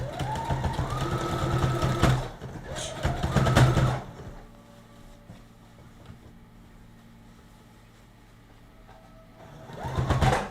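A home sewing machine stitches a dress in steady whirring bursts, loud and close for about four seconds, then stops to a quiet hum of the room before a final short run starts up.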